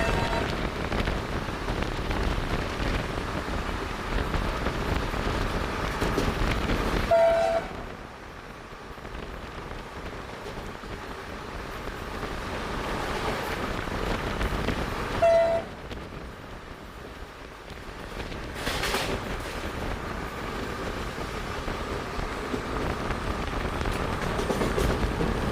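A passenger train passes Hirehalli railway station without stopping, a sustained wash of broadband rolling noise from within the carriage that swells and eases twice over the stretch, with no talking.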